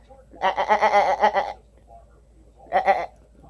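A goat bleats in two bursts, a long wavering cry followed by a shorter one after a pause, close and loud with no other sound around it.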